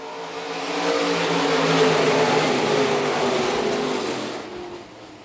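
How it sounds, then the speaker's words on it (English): Stock cars at Phillips County Raceway accelerate back to racing speed after a caution, a loud pack of engines swelling to a roaring drone that peaks mid-clip and then fades as the field moves away. "back underway for your stock cars"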